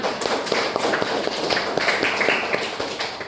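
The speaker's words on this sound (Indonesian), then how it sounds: "Oke, bagus, semua tepuk tangan." A classroom of students claps together at the end of a lesson, a burst of many overlapping hand claps with sharper individual smacks, close and lively throughout.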